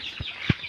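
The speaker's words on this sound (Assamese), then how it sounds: "আৰু মুৰ্গী পুহিছে না" Chickens on a pig farm give two short, close clucks a fraction of a second apart, clear over a faint background.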